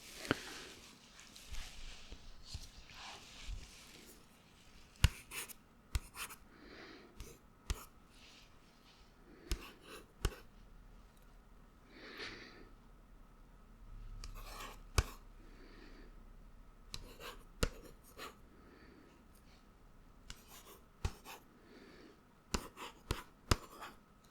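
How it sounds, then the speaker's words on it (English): A pen writes down eight numbers on paper in a quiet ASMR cognitive exam setting, giving soft scratchy strokes and irregular light taps and clicks, close up, with long pauses between bursts. "so now I will write a different order and 8 numbers instead of 6 numbers this time"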